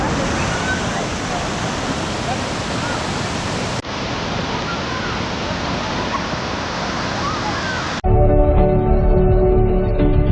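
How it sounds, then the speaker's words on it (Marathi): A natural monsoon waterfall beside a temple in Raigad gives a steady, loud, broadband roar of falling water. It runs unbroken for the full length, with a brief cut partway through and a denser, noisier section at the end. "आपण धबधब्याजवळ पोचलो आहे आणि हा एक नैसर्गिक धबधबा आहे"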